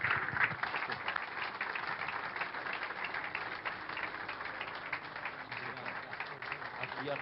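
A church congregation applauds to welcome a pastor, with steady, moderately distant clapping throughout and a faint voice underneath.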